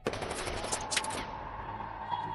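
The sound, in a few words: gunfire in a film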